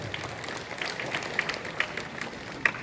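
An audience at a talent award event in Kallianpur, Udupi claps for Devadas Kapikad's team: a continuous wash of crowd applause with scattered sharper claps standing out, fairly loud and without speech.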